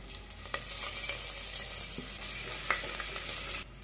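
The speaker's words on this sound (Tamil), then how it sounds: "தட்டி வச்சுக்கிற இஞ்சி பூண்டு விழுதையும் வந்து சேர்த்துக்கிறேன்." Ginger garlic paste and spices frying in hot oil for a vegetable biryani give a steady, close hiss of sizzling with a few soft clicks of stirring, running unbroken until it stops abruptly near the end.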